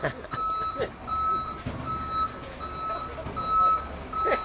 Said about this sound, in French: C'est un camion de poubelle, le pauvre.